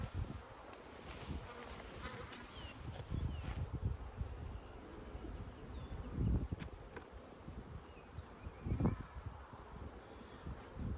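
Bees hum around a hive in a cow pasture apiary, a thin, sparse buzz with insects passing near and away, over faint outdoor rustling and occasional soft bumps.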